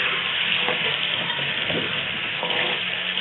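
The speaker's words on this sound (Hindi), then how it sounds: "आलू को मैं फ्राई करूँगी।" Potatoes frying in a karahi for an Afghani potato curry, a dense, even sizzle that holds steady and close throughout, with a few soft stirring knocks and no talking.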